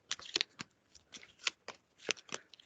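Tarot cards are shuffled by hand in a quick series of crisp riffling bursts, close and fairly quiet, with short pauses between the flurries and no speech over them.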